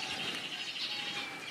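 Birds chirp and twitter in an indoor aviary of rare ornamental birds, a dense, steady wash of high calls over a faint hum, moderately near and unbroken by speech.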